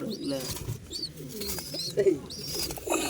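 Pigeons coo softly and repeatedly at a pigeon farm where birds are kept for sale, low throaty calls overlapping with some chirps and people talking nearby.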